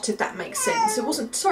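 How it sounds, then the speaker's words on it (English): A house cat cries with a drawn-out meow in a quiet indoor room, faint and partly buried beneath a person talking close to the microphone. "that's my cat crying"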